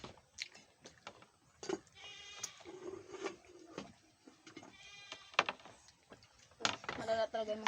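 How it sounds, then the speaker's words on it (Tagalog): Goats bleat several times near a home at midday, with short, wavering cries scattered among quiet gaps and soft background clatter, while people talk in the background. "Malala talaga yung mga kambing nila yan."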